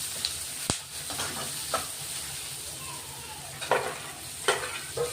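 Finely chopped tomato sautéed in a pan with turmeric while making onion-tomato pithle, giving a soft, steady sizzle with a few sharp stirring clinks and scrapes scattered through it.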